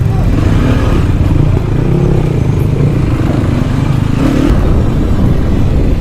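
A 300cc motorcycle rides an off-road jungle trail with a loud, continuous engine rumble and constant wind and rattling clatter, close and unbroken with no voices.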